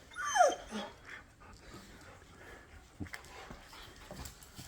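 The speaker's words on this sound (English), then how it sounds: "Look how happy these 3 dogs are." One of three dogs gives a sharp whimpering yelp up close, followed by quieter yips, snuffles and small movement sounds, in a workshop.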